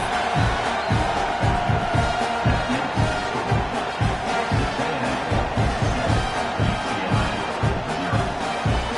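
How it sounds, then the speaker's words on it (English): Football stadium crowd buzzing after a touchdown and extra point: a steady, loud wash of massed voices and cheering that holds across the whole stretch without letting up. "this crowd is buzzing after that last score"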